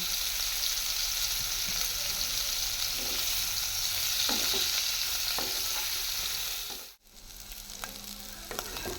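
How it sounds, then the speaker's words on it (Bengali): Cauliflower pieces with turmeric and salt fry in hot oil, a dense continuous sizzle with occasional stirring taps, cutting off abruptly before resuming more faintly. "দেখুন ফুলকপিটা ভাজা হয়ে গিয়েছে"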